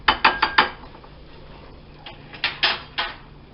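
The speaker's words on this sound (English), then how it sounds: "I've got the whisk in there stirring right now." A whisk clinks and scrapes against a pot of beef stew in a quick burst of four metallic taps, then a quieter stretch and three more spaced clicks, close and fairly crisp.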